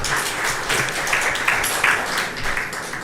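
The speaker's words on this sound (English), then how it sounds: "let's give another round of applause" Seminar audience applauding after a science presentation, a close, fairly loud burst of many hands clapping that holds steady for a few seconds with a faint murmur underneath.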